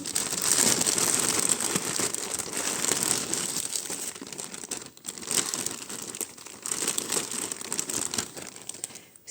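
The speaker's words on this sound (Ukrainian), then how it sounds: "Ось такий у нас великий пакет, ми відкриваємо" Loud, close crinkling and crumpling of a large plastic parcel of vintage jewelry being opened, continuing steadily with rustling bursts throughout.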